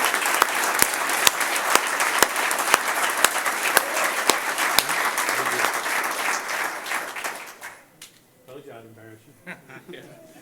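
An audience applauds a graduate at a lineman school graduation ceremony, steady full clapping with a few sharp louder claps, fading out near the end as a voice begins talking.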